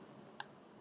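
A computer mouse gives a few quick, faint clicks in a quiet room, with no one talking.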